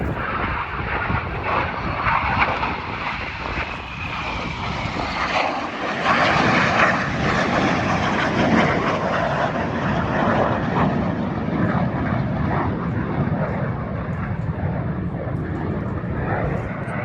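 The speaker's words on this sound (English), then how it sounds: "The aircraft about to barrel roll towards each other." Red Arrows display jets roar overhead at the Duxford summer airshow in a loud, continuous, broad engine rumble, with a commentator talking over it.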